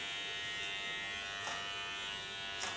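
Electric hair clipper cutting a woman's thick, strong hair during a blunt bob haircut, a steady close buzzing hum running throughout with brief brighter rasps as it bites through the hair.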